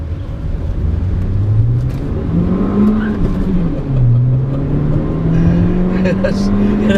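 A 2015 Nissan Juke Nismo RS with manual gearbox pulls away in first gear, its engine note rising loud and close, dipping briefly at a shift, then climbing again under the rush of road noise.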